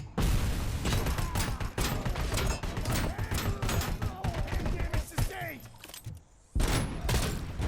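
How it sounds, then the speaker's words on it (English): Rapid, dense gunfire crackles almost nonstop in a video game firefight, with heavy bursts and crashes layered together, briefly dropping to a lull before a loud volley resumes near the end. "Somebody just dropped a grenade at me."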